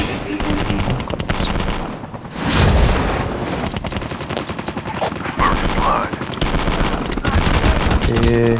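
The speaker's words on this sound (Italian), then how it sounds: "Chi è che mi spara?" Rapid automatic gunfire bursts from the mobile shooter game Call of Duty Mobile, loud and dense throughout, with scattered single shots and in-game effects in a hectic firefight.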